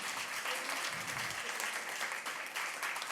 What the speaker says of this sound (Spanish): Les hemos extrañado mucho y se vale un aplauso.